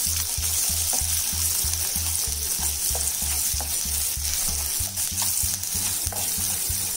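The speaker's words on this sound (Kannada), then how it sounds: "ಒಂದು ಈರುಳ್ಳಿ ಚಾಪ್ ಮಾಡ್ಕೊಂಡಿರೋದನ್ನ ಹಾಕೋಬೇಕು. ಒಂದು 2 ನಿಮಿಷ ಚೆನ್ನಾಗಿ ಹುರ್ಕೋಬೇಕು ಈರುಳ್ಳಿನ." Chopped onion sizzles and crackles steadily in a pan over the flame while a utensil stirs it in a regular scraping rhythm, close and loud, with no talking.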